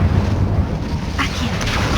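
Incendio fire spell cast in Hogwarts Legacy: a steady, roaring, wind-like rush of flame with a brief brighter flare partway through.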